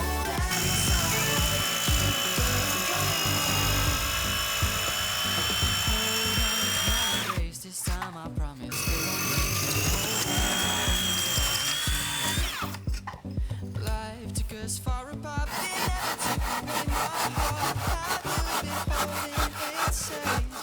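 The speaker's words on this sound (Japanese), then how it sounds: "補強材が干渉しないように、ここを深さ5センチで切っていきます。" A power saw cuts 5 cm deep into wooden reinforcement timber, giving a loud, close, continuous buzzing rasp that briefly drops twice as the blade shifts, then resumes with a choppy, rapid pulsing.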